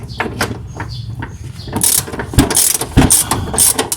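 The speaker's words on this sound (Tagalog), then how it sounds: "Then using a 14mm socket, an extension in the ratchet, so luluwagan natin yung mga bolt na yan." A ratchet with a 14mm socket on an extension turns loose engine support bolts, giving close, bright clicking bursts that repeat in uneven runs over a low mechanical rumble, with no talking.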